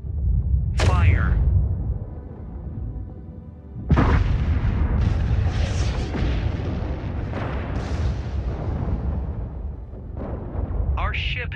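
Heavy cannon fire from warships in the space strategy game Infinite Lagrange, loud booming blasts at the start and again around four seconds, followed by sustained rumbling barrage and crackling impacts, with game voice lines heard briefly.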